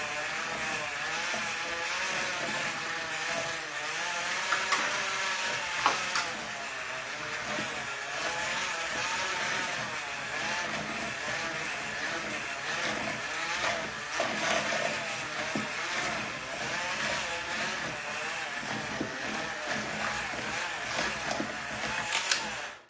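An electric mixer churns bread batter with a continuous, fairly loud whirring motor drone that wavers slightly in pitch for the whole stretch.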